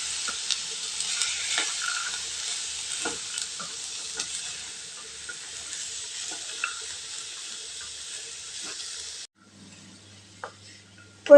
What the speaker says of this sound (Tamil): ஒரு 2 நிமிஷத்துக்கு எண்ணெயிலே நல்லா அப்படியே வதக்கி விட்டுக்கலாங்க